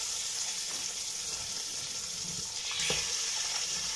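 Meat sizzling as it is added to golden fried onions in a pan for a home-cooked Eid dish, a steady broadband hiss with a brief louder crackle near the end, heard alone without voices.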